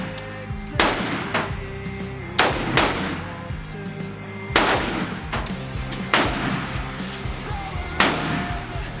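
Gunshots from aiming and shooting, six loud, booming reports spaced roughly one and a half to two seconds apart, each with a ringing tail, with no talk over them.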